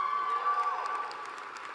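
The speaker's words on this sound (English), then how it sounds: "Give her another round of applause." At a community college nurse pinning ceremony, an audience cheers and applauds a speaker, with a bright sustained vocal tone over crowd noise and scattered claps, moderately loud and gradually settling.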